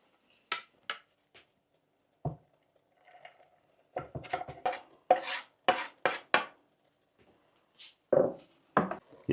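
A spoon stirring carrots with minced meat in a frying pan, giving a series of separate scraping and clinking strokes that grow more frequent and louder toward the end, close by, with quiet gaps between them.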